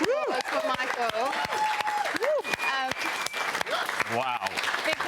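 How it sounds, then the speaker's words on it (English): Studio audience and crew give a standing round of applause on a morning news show set, steady clapping with voices and cheers mixed in, fairly close and continuous. "a stand-up round of applause for Michael."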